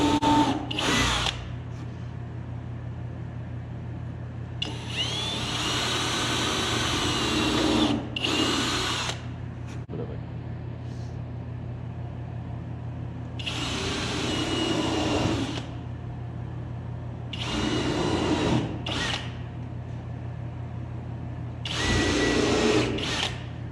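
A power drill drives 2-inch wood screws into a walnut entertainment stand, with several loud whirring bursts of a few seconds each separated by pauses over a steady low hum.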